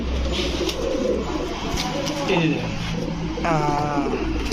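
Large fancy pigeons, including Teddy, Damascene and Lahore breeds, coo in soft rolling bursts close by while people talk over them.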